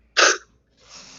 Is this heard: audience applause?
no